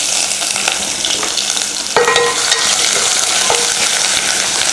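Crushed garlic, ginger and curry leaves hit hot oil with a loud, dense sizzle that flares sharply partway through and keeps crackling steadily, close and intense, with no talking.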